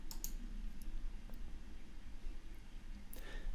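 Several sharp computer mouse clicks, spaced out and faint, over a quiet low room hum while working in software.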